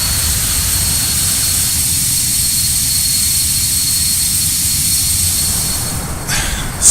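Learjet 35 jet engines at takeoff in Flight Simulator X, departing Fort Lauderdale: a loud, steady roar with a low rumble and a constant high whine, continuous and unbroken, no talk.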